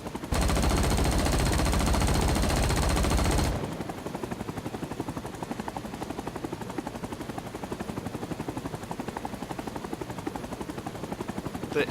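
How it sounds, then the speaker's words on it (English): A rapid, loud burst of helicopter nose-cannon fire in the video game Rising Storm 2: Vietnam roars for a few seconds, then cuts off, leaving steady game engine and rotor noise. "But that cannon just sounds awesome."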